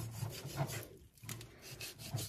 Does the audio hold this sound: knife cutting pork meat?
yes